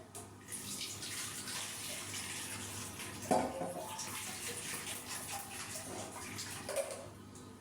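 Tamarind-leaf rasam poured through a kitchen strainer, a steady watery rush and trickle lasting the whole stretch, with a brief louder splash partway through.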